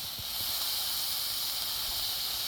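Steady, loud hiss of steam as water hits a hot Blackstone flat-top griddle, a continuous bright rush of vapor holding for a few seconds without voices.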